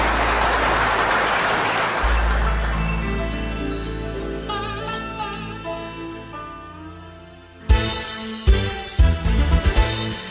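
A crowd claps at a birthday longevity celebration, a dense wash of applause for the first couple of seconds that fades as sustained keyboard music takes over, later joined by sharp percussive hits.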